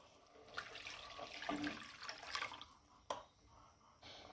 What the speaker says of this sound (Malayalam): ഇനി നമുക്കിതിലേക്ക് ഒരു രണ്ട് കപ്പ് വെള്ളം ഒഴിച്ചു കൊടുക്കാം